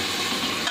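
Ginger-garlic paste fries in a pan, giving a brief, steady, soft sizzle with no voices.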